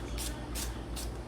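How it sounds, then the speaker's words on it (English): Olive oil spritzed onto bread dough for garlic parmesan bread, in three or four quick, faint hissing bursts spaced evenly apart. "Now I'm gonna spray it with some olive oil."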